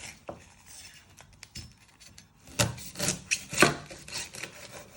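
A knife chopping the ends off a red onion on a cutting board, a few quiet scraping taps followed by a denser burst of louder cuts and rubs near the end, close up with no talking.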